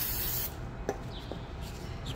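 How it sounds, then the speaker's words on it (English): Brake cleaner sprayed onto the rear brake parts of a Volkswagen Tiguan during a pad and rotor replacement, a steady close hiss that cuts off, followed by faint rubbing and clicks. "Spray some brake cleaner."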